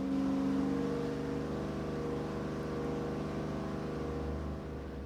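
A V8 engine with a tunnel ram dual-quad intake runs on a test stand, a loud, steady, close rumbling drone with an even pulsing idle that eases slightly toward the end.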